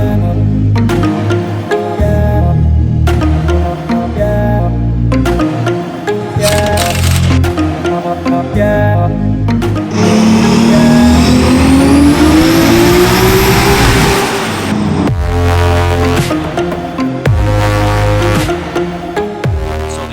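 A Toyota Supra drag car on a stock 2JZ bottom end and factory crank, pistons and rods revs hard and loud, with a long rising wail under full throttle and sharp gear-change breaks.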